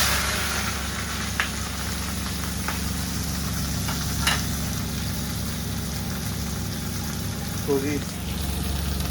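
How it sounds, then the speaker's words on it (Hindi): Bitter gourds stuffed with minced meat fry in hot oil in a pan over lowered gas, a steady close sizzle running throughout, with a few brief clicks and a short spoken remark near the start. "ये डाल दिया इसमें। अब करते हैं इसको अच्छे से फ्राई।"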